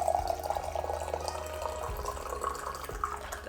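Water poured over tea for steeping, a steady close liquid pour with a few soft splashes and drips running throughout.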